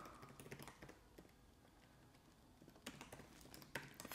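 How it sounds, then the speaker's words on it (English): Faint, quiet keystrokes on a computer keyboard tap in irregular bursts, with a short flurry near the start and another toward the end. "So you could type something like, welcome."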